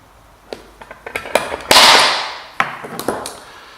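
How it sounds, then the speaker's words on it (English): Several sharp metallic taps of a hammer striking a centre punch into metal, marking a spot for drilling, with one longer ringing hiss in the middle, close up and fairly loud. "I'm going to punch that as well"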